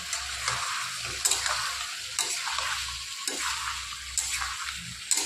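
Cut bottle gourd pieces sizzle in a hot pan with oil and sugar, a continuous close hiss with periodic scraping stirs and a low hum underneath, no one speaking.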